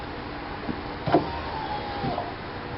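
A small electric motor whirs briefly with a soft clunk as an AMP Power Step running board extends on a 2008 Ram 2500, set against a low steady background hum.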